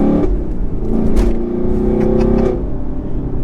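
A Chevrolet Camaro SS 1LE with manual gearbox revs up and drops back in quick blips on downshifts, close and loud, with a throaty rising and falling tone.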